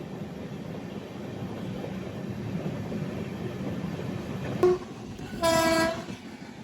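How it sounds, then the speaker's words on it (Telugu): The Lalbagh Superfast Express passes near Jolarpettai, heard from a general coach of another moving train. A steady rail rumble is followed by a short horn blip and then a louder, sustained horn blast. "అదే లాల్బాగ్ సూపర్ ఫాస్ట్ ఎక్స్ప్రెస్"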